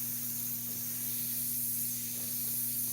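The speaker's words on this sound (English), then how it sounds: "you have to spray transparents carefully" An airbrush sprays Createx Illustration Colors transparent paint onto a red Corvette Stingray, giving a steady close hiss with a low constant hum underneath and no talking.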